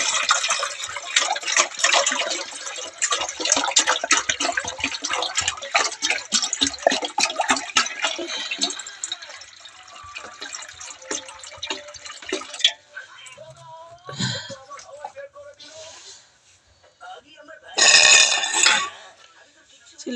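Water running into a bottle from a tap at home, a steady trickling pour with rising pitch that lasts several seconds, followed by clinks and handling noises with a short splash near the end.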